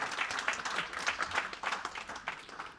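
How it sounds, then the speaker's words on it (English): Audience applause after a procurement talk at a conference, a fairly quiet, distant patter of clapping that rises and falls in uneven bursts, with no talking over it. "If you want to get to your feet and give me a round of applause, that is also fine."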